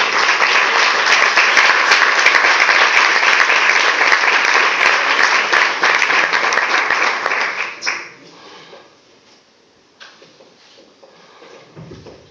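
Loud, sustained audience applause at a presentation gala in Asturias, running for about eight seconds and then stopping abruptly, followed by near quiet with a few faint rustles.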